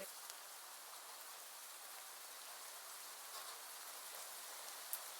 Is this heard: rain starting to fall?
yes